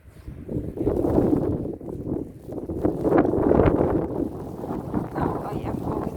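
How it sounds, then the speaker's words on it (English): Blizzard wind gusting across a snow-filled frozen lake in Winnipeg, a steady low roar that swells and eases in broad waves, buffeting the microphone close up. "wind? It's blowing"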